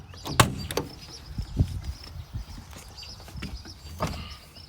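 The cab door of a 1984 International 9670 COE truck opens with a few sharp clunks and latch clicks, followed by softer handling knocks, close and fairly quiet with no talking.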